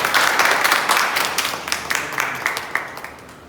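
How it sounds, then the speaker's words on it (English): Applause from a club meeting audience at a public-speaking club session, starting loud and full, then thinning into scattered individual claps that fade steadily toward the end. "please have a huge round of applause for Toastmaster Bhanu"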